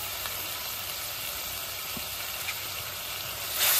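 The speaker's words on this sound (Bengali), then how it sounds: "মশলাটা খুব ভালো করে কষে নিব।" Spice paste of turmeric, chili and coriander powder with salt fries in a pan, a steady, close hiss of sizzling that runs unbroken with no voices.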